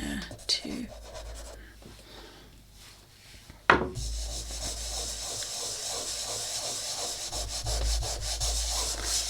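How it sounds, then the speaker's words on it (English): Soft pastel rubbed into a drawing's background, a steady dry scuffing and brushing texture close to the mic, continuing with a sharp tap midway and a light hiss throughout. "And of course rubbing that in."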